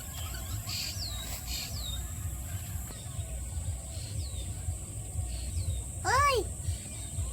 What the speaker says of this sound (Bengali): চারপাশে পাখিতে ডাক পাঠাচ্ছে